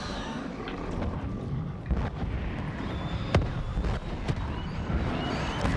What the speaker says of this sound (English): the little explosion they make is so cool